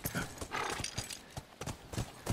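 A horse gallops in the video game The Last of Us, its hooves pounding in a quick, regular rhythm close by with no one talking.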